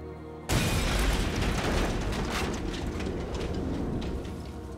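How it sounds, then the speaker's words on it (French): A bomb blast in a documentary reconstruction, meant for a Yale computer science professor's office: a sudden loud boom cuts in after half a second of quiet, then a dense, sustained roar and rumble carries on to the end without any voices. "Quelques heures après l'explosion de la bombe destinée à Gelernter"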